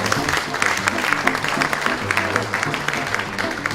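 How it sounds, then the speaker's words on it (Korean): An audience claps steadily at an awards ceremony for a Korean textile and fashion honour, a dense, even round of applause from a sizeable crowd that holds throughout. "네, 큰 박수 부탁드리겠습니다."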